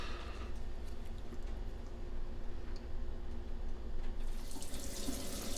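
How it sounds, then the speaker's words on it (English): Tap water runs steadily into a glass container in a home kitchen while baked halibut is prepared, a continuous close splashing flow that stays level throughout. "I'm going to fill my glass container here with just a little bit of water in the bottom."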